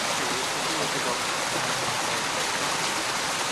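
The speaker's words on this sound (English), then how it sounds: "This is of course a waterfall here. Yes, it is running out waterfall." A waterfall pours in a steady, dense rush, close and loud, a continuous broadband roar with no breaks.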